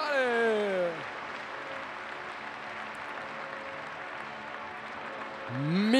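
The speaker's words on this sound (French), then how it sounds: "qui mériterait bien une nouvelle salve d'applaudissements" Crowd applause at an international show jumping competition in Paris for the British team, a steady broadband clapping that fills the whole stretch, with a speaking voice over it at the start and end.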